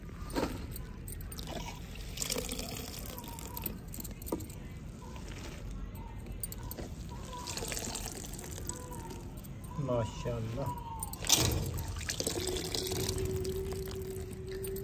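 Soaked dahi bhalla dumplings are lifted from water and squeezed by hand into a tray, giving soft trickles and splashes of dripping water beneath steady nearby talk in Hindi.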